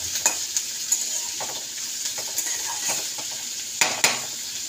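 Onions frying in a pan, a continuous hissing sizzle punctuated by sharp scrapes and clinks of a spatula stirring against the metal, close and with no talking.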